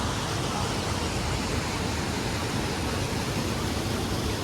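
Steady, loud broadband rush of a hidden waterfall near Bir, Himachal Pradesh, pouring continuously without pause, heard close with no voices.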